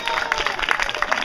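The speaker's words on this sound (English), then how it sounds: "And applaud for the child" A theatre audience applauds for a child onstage at a Renaissance play performance: a short, dense patter of many hands clapping at close range.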